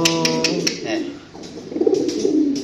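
A racing pigeon from Solo coos in several short, close, low calls, with brief speech-like sounds mixed in.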